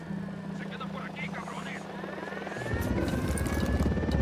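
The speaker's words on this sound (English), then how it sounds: "Helicopter incoming." A helicopter approaches in the video game Ghost Recon Wildlands, its steady low rotor drone running under game ambience and voices, then giving way to a louder, rougher wash of rotor and engine noise that builds toward the end.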